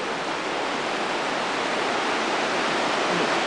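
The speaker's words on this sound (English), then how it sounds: "There's a river." River flowing through the interior of Rio Frio Cave, heard as a steady, dense broadband rush of water with no breaks, moderately loud and even throughout.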